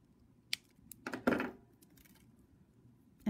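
Wire cutters trimming the wire tail on a handmade earring, a few sharp metallic clicks and snips close up, with a louder clipped cut near the middle, against a quiet background.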